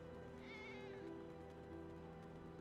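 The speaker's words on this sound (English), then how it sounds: "there are a lot of cats in here." Cats meowing in the Final Fantasy VII Remake video game, a drawn-out meow standing out briefly over a steady, faint game music and ambience bed.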